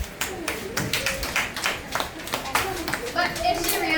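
A classroom of children clapping for a classmate who answered a maths question correctly, a burst of uneven claps and taps running throughout, with kids' voices mixed in.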